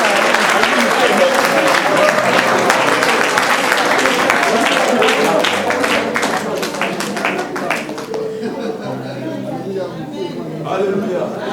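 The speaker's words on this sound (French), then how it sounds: "On acclame pour la gloire de Dieu." A church congregation claps and cheers in praise during a worship service, dense loud applause that thins out after several seconds while a voice carries on over it.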